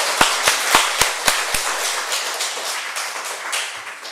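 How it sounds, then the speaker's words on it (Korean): A church congregation at a Sunday service claps: a few sharp, evenly spaced claps open, then blend into a sustained wash of applause that gradually fades. "박수 한번"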